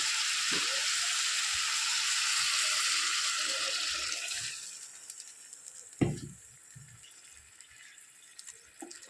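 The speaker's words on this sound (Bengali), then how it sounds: "এবার দিয়ে দিচ্ছি জল" Water is poured into a pan of sizzling fried curry masala, as a loud hissing sizzle gradually subsides into quieter bubbling, broken by a single sharp clatter partway through.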